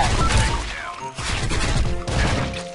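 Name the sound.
gold gun firing in video game Special Force 2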